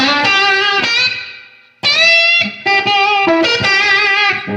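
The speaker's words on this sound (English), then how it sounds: "This is a 1980 Ibanez Blazer with Super 70s pickups." Electric guitar, a 1980 Ibanez Blazer with Super 70s humbucker pickups, played through a Spaceman Saturn VI effect: loud sustained chords and notes that decay, a brief gap, then more strummed, ringing phrases with no talk.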